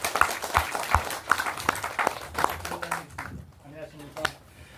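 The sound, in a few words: welcoming applause from the audience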